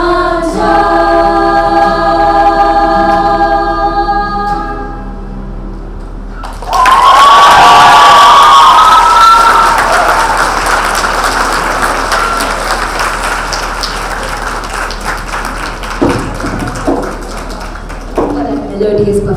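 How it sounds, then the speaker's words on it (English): A crowd at a graduation ceremony breaks into loud, sustained applause right after music ends, a dense wash of clapping that slowly thins and fades over several seconds, with a voice speaking over it. "Can we please have a huge round of applause for them again?"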